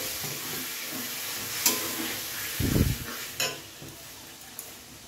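Water splashed into a pan of spices frying with coriander and chili powder for a jackfruit and prawn dish gives a sudden low, bubbling sizzle over a steady background hiss, with a few sharp clinks of utensils.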